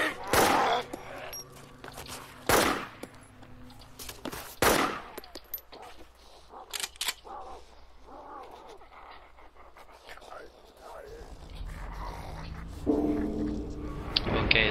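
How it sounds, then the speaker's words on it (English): Sharp, loud single gunshots ring out in the DayZ zombie survival mod, spaced irregularly and fading into quieter ambience, with someone speaking softly between the shots. "Open fire."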